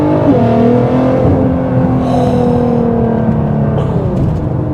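A 2nd-gear pull in an R35 Nissan GT-R: its engine drones loud and close with a rising pitch as the car accelerates, steady and unbroken, with no talk.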